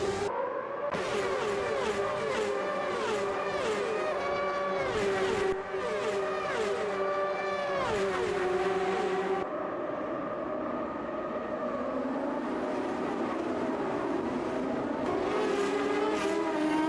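Historic Formula USA race cars in the Automobilista 2 racing game, generation 3 class, roar continuously as several engines rev and shift near and loud, pitch sweeping up and down through gear changes.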